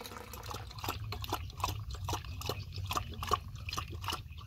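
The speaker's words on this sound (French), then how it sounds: "Je suis en train de lui remplir sa gamelle d'eau" Water pours into a dog's water bowl outdoors, a soft, fairly faint splashing trickle with small repeated drips and gurgles running the whole time.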